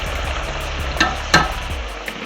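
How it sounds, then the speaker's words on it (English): Chips blanching in gently frying oil, a soft steady sizzle and bubbling with a couple of brief clinks or stirs, close and alone with no talk. "This is the gentle frying that we want to see and hear."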